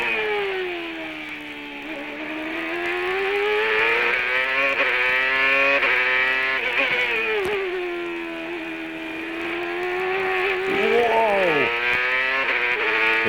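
A CART race car at Road America screams at high revs, then downshifts and brakes hard into turn 5, the engine pitch rising and falling through gear changes, with a commentator talking over it.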